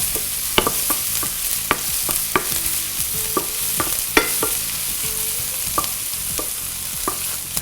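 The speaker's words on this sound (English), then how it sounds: "Onion goes. Sweat a little bit." Onion sweating in a pan alongside pork loin chops, a steady close hiss of frying with regular sharp clicks of a utensil tapping and stirring every half second or so, no voices.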